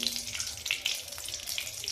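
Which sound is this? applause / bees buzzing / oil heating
oil heating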